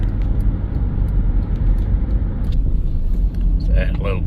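A 2007 Jeep WK CRD diesel, fitted with a swapped 3.07 differential, drives around town, its steady engine and road rumble close and constant, with a brief brighter whine near the end.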